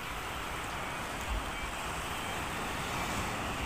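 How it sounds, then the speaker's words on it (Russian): Steady, broad rush of sea waves washing ashore, continuous and fairly loud, with wind noise blending in and no voices. "Море сегодня."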